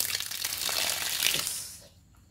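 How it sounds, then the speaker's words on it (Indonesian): Rainwater gushes out of a small potted lemon seedling in a loud, close, continuous pour that tapers off and stops near the end. "buang dulu airnya"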